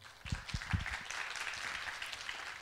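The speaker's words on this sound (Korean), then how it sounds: "용서하실 것 같으면 여러분 큰 박수를 부탁드립니다" Applause from a lecture audience at the end of a special talk, a few distinct claps at the start building into soft, scattered clapping that continues quietly.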